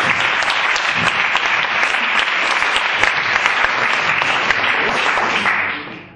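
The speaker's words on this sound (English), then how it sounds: "Big round of applause." An audience at a talk on public speaking gives a big round of applause, a dense, loud, steady clapping that fills the room and fades away at the end.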